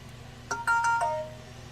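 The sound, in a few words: phone ringtone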